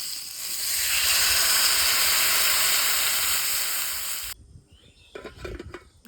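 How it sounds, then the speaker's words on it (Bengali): Water poured into a hot pan of fried potatoes and cut mango pieces for a village-style Bengali shol fish curry bursts into a loud, steady hiss for about four seconds, then drops off abruptly to quieter clinks and stirring. "পরিমাণ মতো জল দিয়ে দেবো।"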